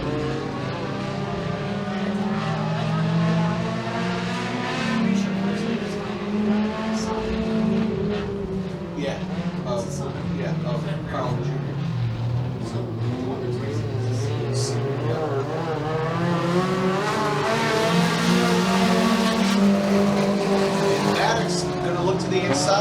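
Race cars accelerate hard around Genesee Speedway, engines roaring loud and continuous with rising and falling harmonic pitch as they run in close tow, while an announcer talks over the noise throughout.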